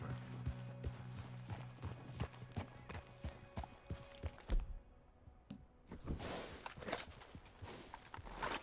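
Horse hooves in the video game Red Dead Redemption 2 clip-clop in a quick, steady gallop rhythm, then pause briefly before resuming with a rushing, noisier texture.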